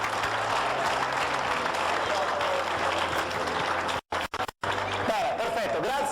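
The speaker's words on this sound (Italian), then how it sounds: "L'applauso davvero per tutti voi." A crowd at a cycling awards ceremony in Terralba, Sardinia, keeps up sustained applause with a dense wash of claps throughout, broken by a few brief dropouts near the end.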